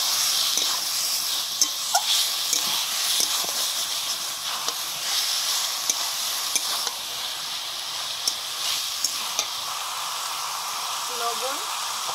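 Cabbage and vegetables added to spices in a pan give a steady, close sizzling hiss that continues throughout, with faint scattered clicks and crackles.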